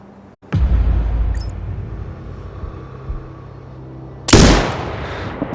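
A sniper rifle fired in the shooting game Sniper Ghost Warrior Contracts 2: a sharp, heavy shot cracks out followed by a long rumbling tail, with a second loud blast arriving near the end.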